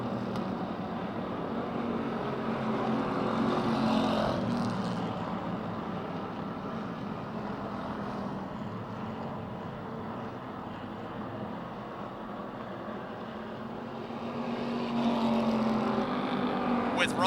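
Race cars circle Motordrome Speedway during a Charger feature event on a night at the races, engines droning and swelling as they pass, heard from a distance as a steady roar with a louder surge near the end.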